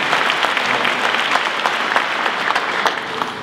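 An audience at an official gathering in Dijon gives a visiting guest a dense, steady round of applause, loud and close, with no voices over it.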